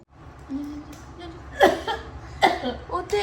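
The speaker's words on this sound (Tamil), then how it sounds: "இருமுறாவா" A child gives a few short coughs, spaced apart, close to the listener, with soft background voices.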